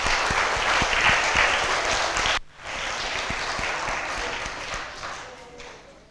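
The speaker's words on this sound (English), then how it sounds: "let's give them a round of applause." An audience of primary school pupils applauds steadily, a dense wash of clapping that breaks off suddenly, then resumes a little softer and fades toward the end.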